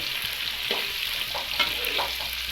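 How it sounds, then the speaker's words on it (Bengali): Onions hit hot oil for a chicken dish and fry with a steady, bright sizzle, broken by a few sharp spatula stirs and scrapes against the pan, heard up close with nobody talking. "পেঁয়াজটাকে অয়েলের মধ্যে হালকা ব্রাউনভাবে ফ্রাই করে নিতে হবে"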